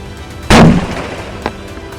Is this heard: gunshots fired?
yes